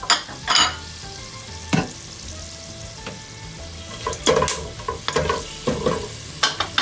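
Whole spices crackle in cooking oil for a mutton chop salan, with a steady low sizzle broken by sharp stirring scrapes and clinks of a spoon against the pot, near and fairly loud.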